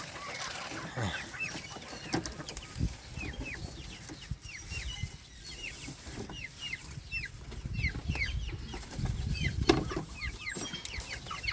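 Farmyard chickens cluck and chatter in repeated short calls at a Bicol province home, several birds close by at low level, mixed with faint background noise and occasional louder squawks.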